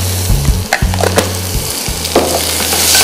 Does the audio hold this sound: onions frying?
yes